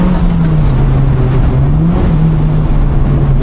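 A supercharged 460bhp Mk2 Volkswagen Golf G60 Rallye accelerating under load, heard from inside as a loud, steady engine drone with a rising and falling pitch and a constant roar.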